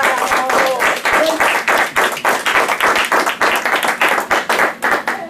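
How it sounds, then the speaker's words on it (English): Loud, dense applause from an audience at a network marketing business event, with many hands clapping close by in a continuous burst and a voice briefly audible near the start. "I think that deserves a round of applause"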